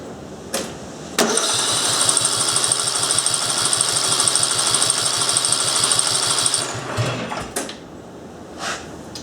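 A Briggs and Stratton small engine's starter cranks in a fast, even chugging rhythm for about five seconds, loud and close, framed by clicks and clunks of handling before and after.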